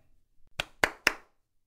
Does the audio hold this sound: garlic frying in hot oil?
no